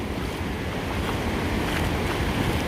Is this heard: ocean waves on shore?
yes